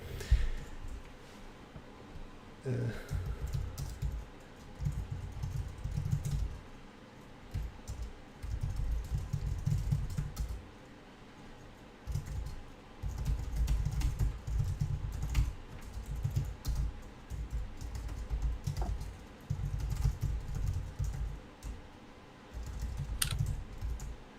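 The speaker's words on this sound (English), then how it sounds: "I can only hear him typing from time to time." Fast typing on a computer keyboard during a coding session comes in bursts of rapid clicking keystrokes separated by short pauses, fairly close and steady across the whole stretch.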